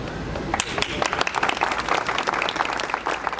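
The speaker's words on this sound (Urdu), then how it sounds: "تالیاں بہت کم ہیں آپ کی، میں چاہوں گا کہ ایک دفعہ زوردار تالیاں بجائیں گے ہم" Applause from a conference audience at a Minority Day gathering held by Jamaat-e-Islami in Karachi, with dense clapping running under a loud voice speaking throughout.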